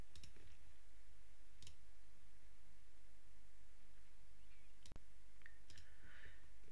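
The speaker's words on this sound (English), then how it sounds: "you can simply click on the calendar and select your hours" Mouse clicks in a doctor scheduling calendar app as hours are selected and edited, a few sharp isolated clicks spread apart over a quiet hiss with no talking.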